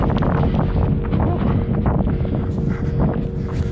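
Strong wind buffeting the microphone outdoors during a run, with a constant low roar and gusty rumble, loud and close, no speech.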